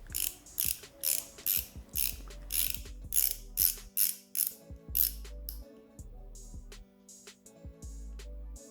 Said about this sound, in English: Just giving the demo of the ratcheting side is sturdy and smooth.